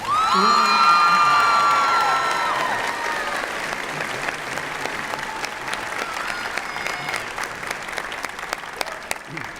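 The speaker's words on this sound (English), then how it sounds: "And I think she deserves a much bigger round of applause." Audience applause with cheering and whoops at a Tarleton commencement ceremony, loud and dense at first with shrill shouts, then settling into steady sustained clapping.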